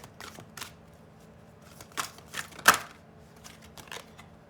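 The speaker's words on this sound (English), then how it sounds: "I'm going to pull just one of these cards. It's my Oracle deck." Oracle cards are handled and one is drawn from the deck. Soft paper flicks, snaps and riffling ticks come close and quiet, with one sharper snap in the middle.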